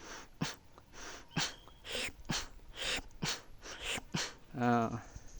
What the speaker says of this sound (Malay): saya buat ambil nafas daripada mulut atau hidung, hembus nafas ke hidung